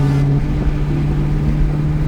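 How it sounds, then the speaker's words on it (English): A Ford SVT Cobra's engine idles and revs steadily up close, a loud continuous rumble with a low droning hum and no talking. "But car's running awesome."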